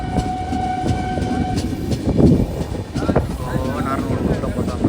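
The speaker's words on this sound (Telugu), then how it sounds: "మనకి ట్రైన్ అయితే కొంచెం స్లోగా అయితే వెళ్తుంది" A passenger train on the Tirupati to Vijayawada route runs slowly along the tracks, with a steady rumble, wheel clatter, squealing tones and wind buffeting, heard from on board as a voice talks over it.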